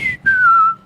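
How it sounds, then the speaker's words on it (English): A slide whistle gag from a cartoon, two short sliding tones, the second longer and gliding downward, loud and clear with nothing else. "The lady who said that just had that slide whistle play."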